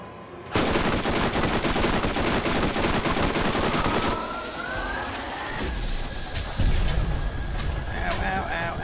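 Sustained rapid gunfire in the Borderlands shooter game, a dense roaring barrage for several seconds that then thins into scattered shots and game effects over background noise.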